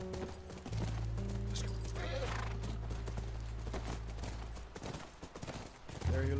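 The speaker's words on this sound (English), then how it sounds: "Look, by the ranch. That's our horse." Horse hooves clop in The Last of Us near a ranch, a quick run of hoofbeats under steady game music, with a voice talking over the top.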